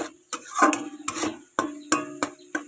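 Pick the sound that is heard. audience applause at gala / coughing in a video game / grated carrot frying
grated carrot frying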